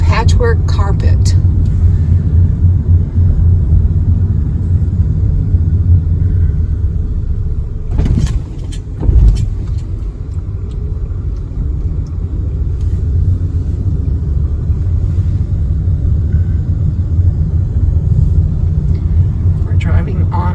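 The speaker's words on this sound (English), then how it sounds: "We're driving on into the park a little bit more." A car rolls steadily along a park road through pine trees and wildflower meadows in Wyoming or Utah, with a continuous low engine and tyre rumble throughout and a couple of brief louder bumps midway.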